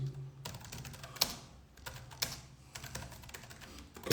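Keys clatter on a computer keyboard in short, irregular bursts with sharper taps scattered through, close and fairly quiet with no talking.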